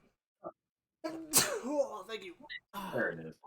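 A single sharp sneeze bursts out close to the microphone during a tabletop role-playing session, with people talking just before and after it.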